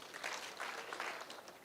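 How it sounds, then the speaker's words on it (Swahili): Audience applause at a public security forum in Kisii Town, Kenya, a steady wash of clapping throughout the short stretch with no speech over it. "mpigieni makofi"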